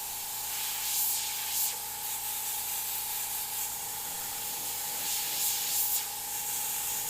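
An airbrush sprays paint in a steady, continuous hiss with a few brief swells, close and alone, while fire and skull artwork is painted.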